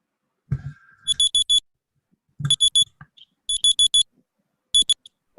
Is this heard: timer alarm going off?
yes